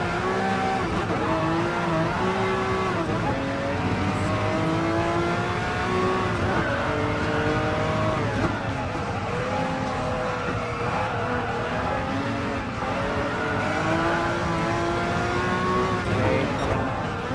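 Several LMP prototype race cars in Gran Turismo Sport roar continuously at high revs, engine tones rising and falling with gear changes as they charge through a lap, loud and steady throughout.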